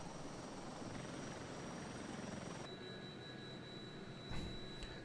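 A helicopter in a flight simulator at night, a steady broadband rotor and engine roar with a high whine, holding constant throughout with a brief louder swell near the end and no talk.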